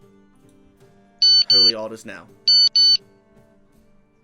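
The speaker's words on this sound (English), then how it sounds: "A new timer, by the way, if you hadn't guessed." Electronic timer alarm sounding in two bursts of paired, piercing high beeps, loud and close, with someone talking between and around them while playing a grand strategy game.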